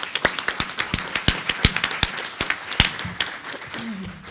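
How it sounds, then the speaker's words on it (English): Scattered applause for Missouri at a panel on access to quality care, sharp separate claps in an uneven rhythm that thin out and fade, with a faint voice near the end. "Can we just give Missouri a round of applause?"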